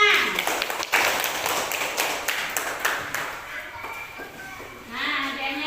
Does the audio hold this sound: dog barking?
no